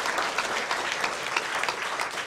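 A congregation at a Korean church ordination and deacon installation service, held on the church's 77th anniversary, breaks into steady, dense applause that fills the hall throughout, with no voices over it.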